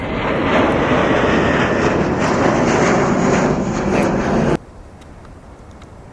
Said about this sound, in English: 757-300 here on takeoff roll